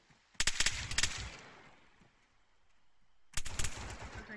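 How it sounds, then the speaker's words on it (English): Machine gun fire in the Arma 3 military video game, two rapid bursts of loud automatic shots, a longer volley near the start and another burst a few seconds later, echoing between them. "Where's the guy that's shooting the fucking MG?"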